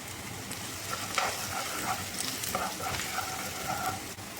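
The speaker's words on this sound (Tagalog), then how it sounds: "So mag-start na po tayo mag-saute." Ginger and garlic sauté in a hot pan with steady sizzling, broken by scraping stirs and a few sharp spatters, close and alone with no talk.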